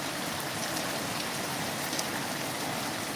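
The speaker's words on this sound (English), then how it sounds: "It is raining." Nighttime rainfall striking the ground outside, an even, constant wash of drops heard up close and unbroken throughout.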